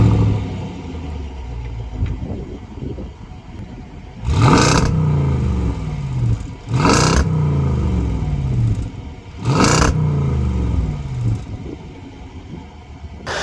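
A powerful engine in a 2022 Land Rover Range Rover Sport HSE Dynamic P525 SUV idles with a low rumble, then revs hard three times in succession, each rev surging loudly before dropping back.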